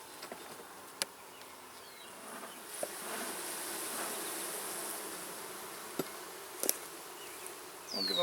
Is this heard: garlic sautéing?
no